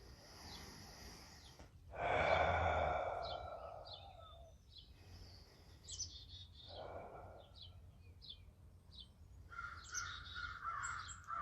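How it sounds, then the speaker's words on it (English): Crows caw loudly outdoors, with a harsh nearby call standing out early, then further scattered caws among fainter chirps from other birds against quiet ambient noise. "You probably can identify that those are crows. Quite loud, aren't they?"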